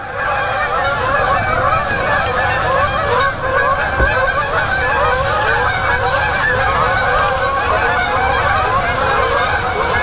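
A large flock of geese passing over open water honks continuously, a dense, loud chorus of overlapping calls that holds steady throughout.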